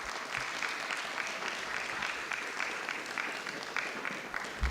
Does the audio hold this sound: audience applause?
yes